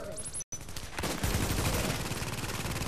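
Dense automatic gunfire from The Division's Dark Zone, a brief dropout and then a loud, sustained burst of rapid shots with some voice mixed in.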